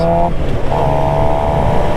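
A motorcycle engine hums steadily nearby, its tone dropping briefly and then settling at a new pitch as it shifts into third gear.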